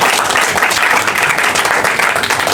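Loud, dense applause from an audience at a Punjabi and Urdu poetry mushaira, a steady wash of many hands clapping close by with no talking over it.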